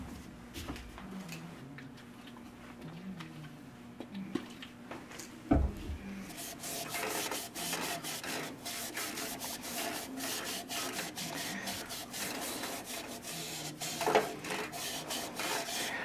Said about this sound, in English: I'm going to clean the inside of this with methylated spirits again